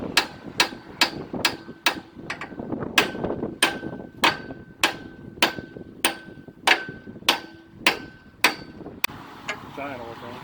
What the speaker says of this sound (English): we're using chisels as we go along and start prying it off of there